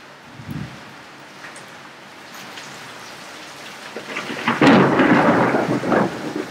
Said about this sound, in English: We have a thunderstorm as well.